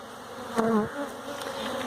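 Honeybees at a strong hive hum close by in a dense, steady buzz, with a few individual bees droning louder as they pass the microphone.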